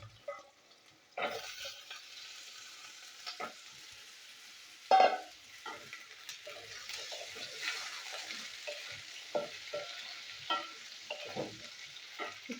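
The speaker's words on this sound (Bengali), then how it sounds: "এখানে আলু আমি তেলেতে ভেজে নিয়েছি।" Potato slices fry in hot oil, a soft, steady sizzle with occasional scraping stirs and light clinks, heard close and fairly quiet with no talking.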